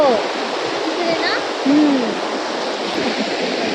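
A rain-filled stream in a Konkan village rushes loudly and continuously, a dense wash of flowing water close by, with a few faint voices heard briefly over it.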